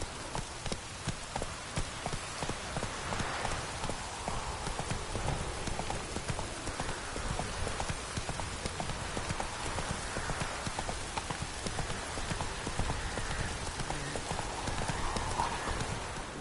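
Steady clip-clop of a horse's hooves trotting in The Witcher video game, rhythmic and continuous, with a faint rain-like hiss and an occasional soft whinny in the background.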